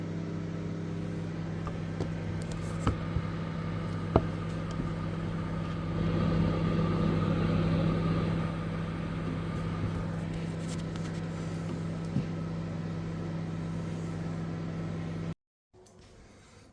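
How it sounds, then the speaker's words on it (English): A microwave oven hums steadily for several seconds while melting butter, a low constant drone with faint clicks, before shutting off suddenly near the end. "So the butter goes in the microwave."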